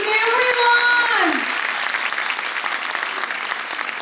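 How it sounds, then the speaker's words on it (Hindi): Parents at a school annual day celebration clap loudly, the applause joining as an announcer's voice trails off and then carrying on as a steady, dense crowd patter. "Please जोरदार तालियां बजा दीजिए everyone"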